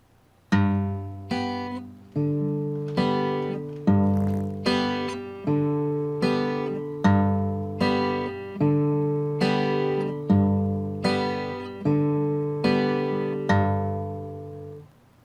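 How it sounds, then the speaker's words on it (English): Parlor guitar played with a thumbed bass note followed by three fingers picking the treble strings, a steady 2/4 pattern of regular plucked strums with ringing notes, played alone and clearly. "You thumb the bass string and then pick up on the 3 treble strings with your first 3 fingers, 1 finger on each string."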